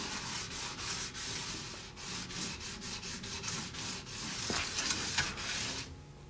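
Metal burrs along a cut edge are filed or sanded off in a series of short rasping strokes, close and fairly quiet, with a steady back-and-forth rhythm and no talking.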